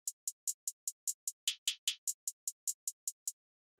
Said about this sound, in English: This is basically just a 2-bar loop of hi-hat rolls